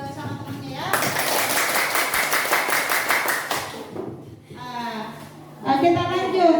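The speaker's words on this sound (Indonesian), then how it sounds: "Tepuk tangan juga sama temannya ya." Classmates applaud a student during a classroom lesson: a dense burst of clapping lasting about three seconds, with voices talking before and after it.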